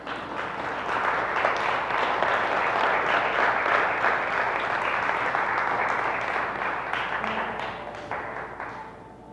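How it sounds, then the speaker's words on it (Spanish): Sustained applause from a sizable church congregation during a sermon, steady and dense for several seconds before gradually thinning out toward the end. "Denle un aplauso mientras yo tomo agua."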